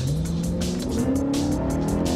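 A BMW M coupe engine revs hard toward 8,000 RPM, its loud, steady note climbing in pitch with a raspy exhaust crackle and no voices.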